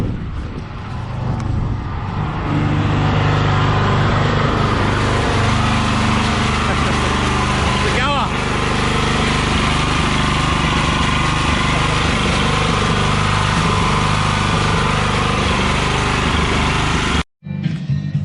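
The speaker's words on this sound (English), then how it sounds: "My father's got this Honda motor, 11 horsepower." An old 11-horsepower Honda engine, revived after sitting unused for about ten years, runs steadily and loudly up close with a constant droning hum, then cuts out abruptly near the end.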